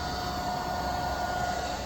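A car engine idles steadily while powering a 2500 watt pure sine wave inverter, a continuous even drone with a faint whine and no voices.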